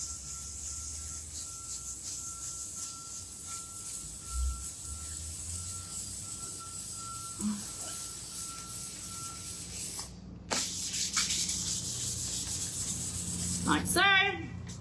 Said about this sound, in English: It doesn't matter that I'm sanding a bit that I've already done either.